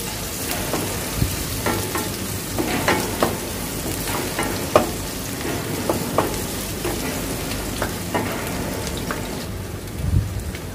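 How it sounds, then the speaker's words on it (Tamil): Chopped onions sauté and sizzle in a pan for a chicken curry made without ginger or garlic, a steady close crackle with scattered pops and stirring scrapes throughout, no voices. "வெங்காயம் நல்லா வதங்கட்டும்."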